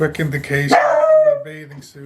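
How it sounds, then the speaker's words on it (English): A dog barks somewhere behind a person who keeps talking, the yelps and a drawn-out bark-like cry mixed in under the nearby voice. "You can hear my dog barking behind me."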